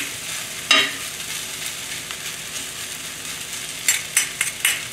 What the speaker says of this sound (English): Since the rice is warm, we don't need to stir fry a lot